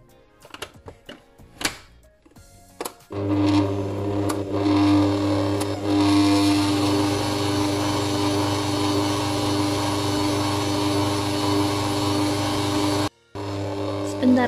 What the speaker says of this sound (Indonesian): Kita mixer lagi sebentar untuk meratakan aja.